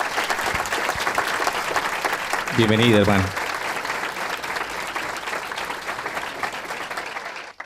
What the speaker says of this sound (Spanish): Un aplauso primero para Dios y para nuestro ministerio.